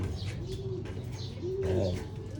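Pigeons brought from Japan coo in a low, repeated murmur, a few overlapping calls rising and falling close by, with faint chirps mixed in and no talking.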